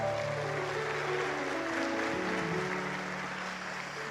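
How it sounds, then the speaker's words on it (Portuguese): Steady congregation applause filling a church service, a continuous wash of clapping from a large crowd with a low musical drone underneath and no clear voice on top. "Você pode aplaudir ao Senhor?"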